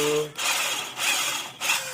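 Drill boring into a Yamaha Vega or Jupiter motorcycle part under light pressure, a harsh whirring grind repeated in three passes with brief pauses between them, close and fairly loud.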